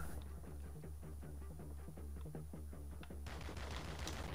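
Bursts of M13C rifle fire in the Modern Warfare 2 video game, a rapid rhythmic series of sharp shots over a low throbbing game background hum.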